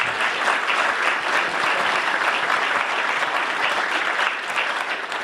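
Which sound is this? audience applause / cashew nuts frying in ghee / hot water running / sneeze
audience applause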